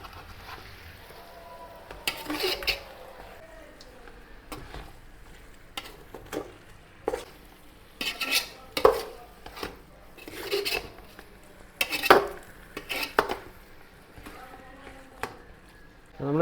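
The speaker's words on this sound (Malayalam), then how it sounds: "ഒരു രണ്ട് സെക്കൻഡ് ഒന്ന് മിക്സ് ചെയ്ത് കൊടുത്തിട്ടുണ്ട് മസാലയും ചിക്കൻ എല്ലാം കൂടി ഒന്ന് മിക്സ് ആയിട്ടുണ്ട്" Spoon clanking and scraping in a pot as about one and a half kilos of washed chicken is stirred into tomato masala for Ambur chicken dum biriyani, irregular close metallic knocks and scrapes spread over several seconds, with quiet stretches between.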